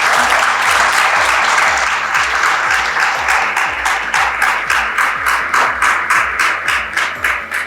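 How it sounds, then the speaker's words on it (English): An audience at a secondary school graduation ceremony gives a speaker a long round of applause. The clapping is loud and sustained and fades slightly toward the end. "So let's give a big round of applause for Coach Keon."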